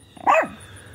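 A dog gives one sharp, loud bark close by, short and sudden, followed by quieter background with no speech.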